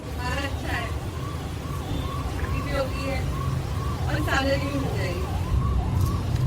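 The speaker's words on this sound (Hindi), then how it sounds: "ये एम्बुलेंस जा रही है आजकल" A passing ambulance siren wails, rising and falling steadily across the whole stretch, with traffic rumble beneath and a voice talking faintly now and then, in Mumbai during lockdown.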